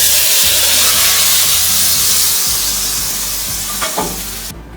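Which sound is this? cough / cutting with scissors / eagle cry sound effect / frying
frying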